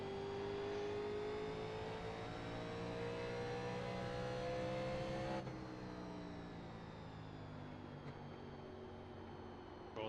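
A NASCAR Legends race car at Richmond in iRacing, its engine droning steadily at high revs with a slight rise in pitch, then a sudden drop as the throttle eases for a corner exit, constant and close.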